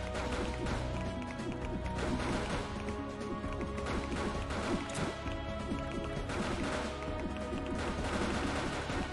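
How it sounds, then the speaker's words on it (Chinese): Firecracker-like gunfire bursts from Random Dice, a mobile tower-defense game, featuring gun dice and sniper shots; dense, continuous crackling and popping volleys fill the whole stretch at steady loudness. "鞭炮鞭炮"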